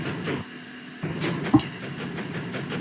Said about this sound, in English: Oi, that's my train.